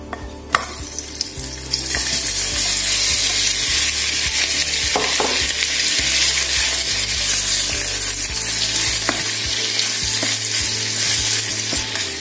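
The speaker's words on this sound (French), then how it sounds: "Et là, je vais faire d'abord revenir les crevettes." Fresh shrimp frying in a pan for fried rice, a loud, continuous sizzle that flares up as they hit the hot fat, with stirring scrapes and clinks throughout and no speech.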